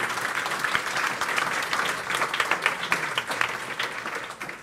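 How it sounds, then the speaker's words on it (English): An audience at a circular-economy conference gives panelists warm applause, a continuous dense patter of many hands clapping at even loudness, easing off slightly at the end. "Let's give a warm hand applause for all of the panelists."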